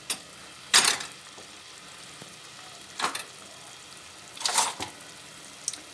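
Macaroni with minced meat fries quietly in a pan as soy and chili sauce go in, with three short bursts of loud sizzling spaced a couple of seconds apart over a faint background hiss.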